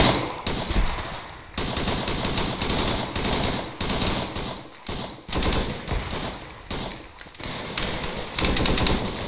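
Rapid rifle and machine-gun fire crackles through a Vietnam-era firefight in the military game Arma 3, with dense, sustained bursts and overlapping shots near and far and almost no talk.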